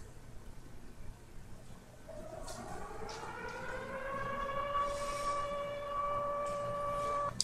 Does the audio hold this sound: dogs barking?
no